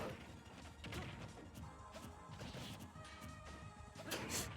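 In a Super Smash Bros. Ultimate match between Link and Shulk, a bomb bounces off a shield, heard as repeated crashing, whacking game hits and whooshes, busy and continuous at low volume.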